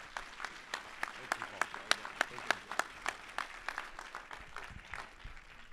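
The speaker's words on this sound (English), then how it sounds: "Can we get a huge round of applause for Paul C." Audience at an annual business meeting clapping a speaker, a sparse, fairly quiet round of distinct individual claps in a loose rhythm that thins out toward the end.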